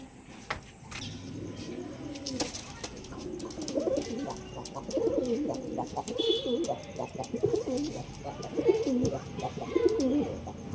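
Pigeons coo in repeated throaty, rolling phrases close by, with a few sharp chirps and faint background voices mixed in.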